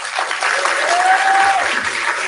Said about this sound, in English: I want to give a big round of applause and a big thank you to Miss Esti for making tonight possible.